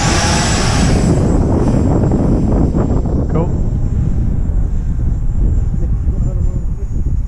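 A light aircraft engine at full throttle, a steady loud drone with strong wind buffeting on the microphone, continuous throughout with no speech.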